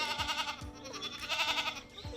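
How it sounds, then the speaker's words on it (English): Goats bleat at a veterinary clinic, a few close, wavering cries repeating in quick succession over a soft background. "I don't know if they've ever had goat walk-ins."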